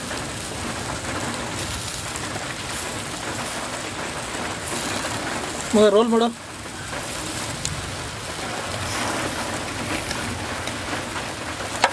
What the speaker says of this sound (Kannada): ಪಕ್ಕದಲ್ಲಿ ಮಳೆ ಬರ್ತಿದೆ